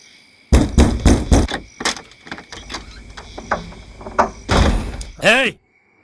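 A door in a dramatic indoor scene, with a burst of loud wooden knocks and thuds, then a swinging squeak or creak near the end, close and forceful over a noisy background.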